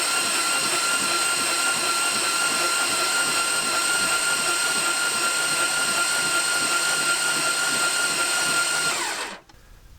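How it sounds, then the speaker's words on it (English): A crushed, long-seized Dodge Charger engine is spun over with its head bolted down, giving a steady, loud mechanical whine and whirring drone that runs unbroken for about nine seconds, then cuts off abruptly. "I'm going to spin the engine over, and I'm looking for oil to come out right here on both sides"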